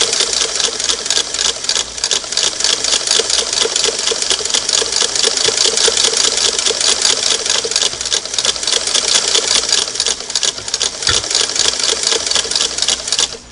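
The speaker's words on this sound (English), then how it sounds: "I'm using my hand to press the foot pedal, so I've got to sew with one hand" A Singer Model 99K sewing machine runs steadily and loudly for the whole stretch, its needle clattering in a fast, even rhythm with a slight hum underneath, close by and with no talking.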